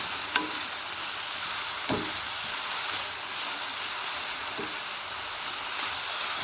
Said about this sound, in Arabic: شويه ديال الزيت، كندير هنايا شويه ديال الملح، غادي نخلي ان شاء الله البصل ديالي تبدا